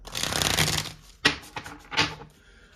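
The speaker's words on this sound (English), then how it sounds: "One more shuffle." Cards riffle-shuffled in a dense, fluttering burst, followed by a few sharp taps and a second quick riffle, close up and fairly quiet.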